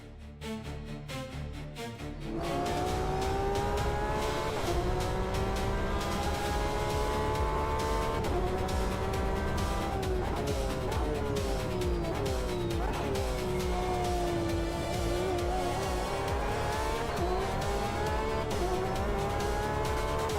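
A race car engine in Automobilista 2 climbs and falls through gear changes, loud and continuous after a quieter opening, with tyres squealing faintly at moments.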